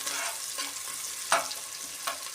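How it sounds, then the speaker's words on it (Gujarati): Onions fry in oil in a pan with a steady, close sizzle and a few brief sharper crackles or stirring scrapes, no one speaking. "આપણે બે મિનિટ ડુંગળીને પાકવા દઈશું તેલમાં"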